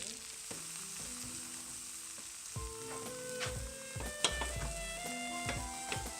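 Veal sizzles steadily in an olive-oiled frying pan, a continuous crackling hiss broken by scattered pops, clinks and scraping, with no talking.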